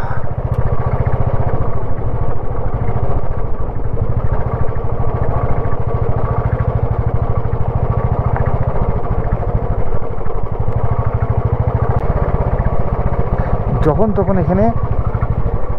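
A motorcycle carrying a pillion passenger grinds along a rough, broken mountain road between Jispa and Pang in Ladakh, its engine droning continuously and loudly with rattling over the bumps, while a rider talks over the noise throughout.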